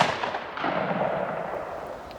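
A single Mossberg 835 shotgun slug shot outdoors, heard as a sharp blast at the start that trails off into a long, rolling echo fading over a couple of seconds.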